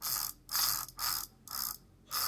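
A reinforced two-axle differential ratchet turned by hand gives five rapid bursts of clicking, each run of pawl clicks followed by a short pause, close and fairly quiet, with no voices.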